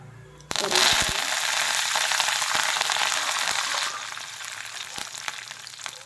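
Urad dal and lentils frying in hot oil, a steady loud sizzle that starts abruptly and carries on with light crackles and a few sharp pops, close by.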